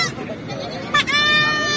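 Goats bleat at a weekly Wednesday livestock market in Jaswantnagar, Etawah, Uttar Pradesh, where young kids are traded; one brief, clear bleat rises over the general crowd murmur of the market.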